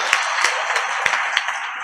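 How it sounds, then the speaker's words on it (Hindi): Audience clapping at a Hindi comedy poetry stage show, a dense, steady patter of many hands with a few sharper claps standing out, close and continuous with no voices. "आप लोगों को तालियां बजानी ही होगी"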